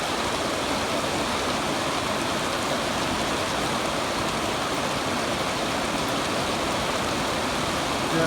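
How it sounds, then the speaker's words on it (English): Heavy summer rain pouring straight down outside a house and garden, a dense, constant hiss of falling water, loud and close with no breaks and no talking. "Yeah, the rain's coming straight down,"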